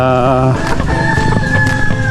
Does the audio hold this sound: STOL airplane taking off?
no